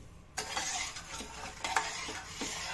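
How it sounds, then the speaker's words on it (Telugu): Jalebi batter of maida being mixed in a bowl, with soft, wet stirring and scraping strokes that start suddenly and continue in uneven bursts, quiet and close, with no voices. "జిలేబీ పిండి మనం కలుపుకుంటున్నామండి"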